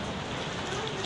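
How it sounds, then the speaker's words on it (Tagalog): Heavy rain pouring steadily onto surfaces, a dense, even hiss with close patter filling the whole moment without pause. "Malakas ang ulan."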